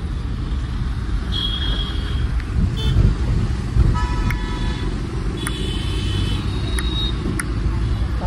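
Delhi road traffic at a red light that has just turned green: a steady roar of engines, with several short car horn toots over it, some overlapping, near and moderately loud.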